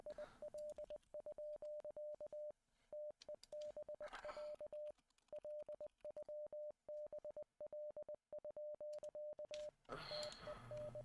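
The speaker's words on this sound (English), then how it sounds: "This is real Morse code." Morse code beeps in the video game Z.A.T.O., a steady single-pitch tone in rapid dots and dashes, loud and continuous, ending in a brief noisy burst.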